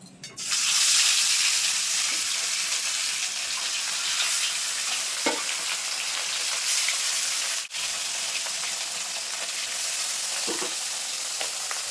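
Rohu fish pieces sizzle loudly in hot mustard oil, a dense steady crackle that runs the whole time, broken by a few faint knocks and one brief dip.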